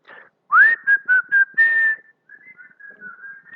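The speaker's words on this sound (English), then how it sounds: "We're going to do whistling or hum" A person whistles a short tune alone: a quick rising note, a few clipped notes, then longer held tones that fade into quieter, softer whistling.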